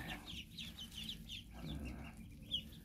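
Day-old ducklings kept warm in a brooder give off repeated high, soft peeping chirps in quick clusters over a low background hum, fairly close and faint.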